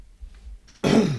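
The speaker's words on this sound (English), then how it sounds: "I didn't realize I was going to have to cough until I started talking and my throat clammed up" A single rough throat clearing or cough bursts out close by after a quiet moment.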